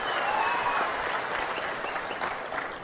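A large crowd at a World Tribal Day rally claps hard, dense applause that swells early and holds steady before easing slightly toward the end.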